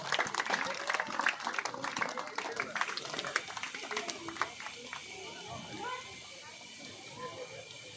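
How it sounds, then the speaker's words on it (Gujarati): Applause from a gathered crowd at a village welcome event in Vasana, Lakhani taluka, dense clapping for several seconds that tapers off, with voices talking over it. "થોડા તાળીઓથી આપણે વધાવશો મિત્રો."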